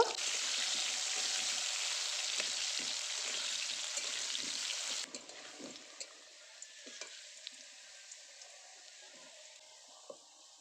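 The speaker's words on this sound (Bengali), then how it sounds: "আলুগুলো যে নুন হলুদ মেখে রেখে দিলাম সেটাকে এখন ভেজে নেব" Salted, turmeric-coated potatoes fry in hot oil in a home kitchen, a bright steady sizzle that drops suddenly halfway, leaving softer crackle and occasional stirring clicks.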